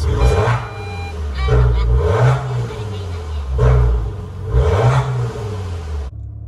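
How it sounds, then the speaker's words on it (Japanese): A Maserati Ghibli S with a variable-valve exhaust starts up and revs, its engine rising and falling in several swells of deep roar before cutting off abruptly near the end. "それではエンジンをかけます"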